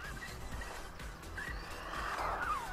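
A JJRC Q46 RC toy car drives on and brakes, making a faint buzzing motor whine with brief tire squeaks and rising squeals. The sound is fairly quiet, and nobody talks.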